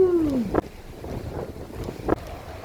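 A very strong Patagonian gale blows spray off open water, buffeting close in heavy gusts with a brief falling whistle at the start and sharp bursts of roaring wind.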